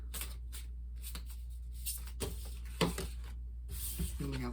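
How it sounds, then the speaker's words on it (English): Tarot cards being shuffled by hand in repeated bursts of riffling and sliding, close and fairly quiet, with pauses between bursts and brief talk near the end. "Let's keep shuffling."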